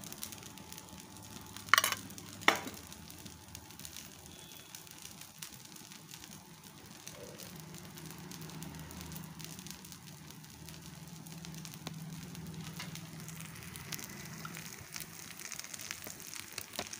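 A thick sponge dosa with oil poured around its edge sizzles faintly and steadily on a pan, a low soft crackle under room noise, with two sharp clinks early on.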